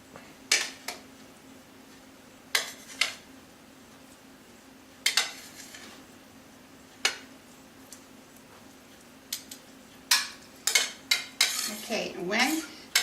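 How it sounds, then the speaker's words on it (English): Soft cooked cauliflower is spooned into a casserole dish, with intermittent clinks and scrapes of utensil against dish coming in short irregular bursts over a quiet kitchen hum, busier toward the end. "I like to layer cauliflower on the bottom of my casserole dish"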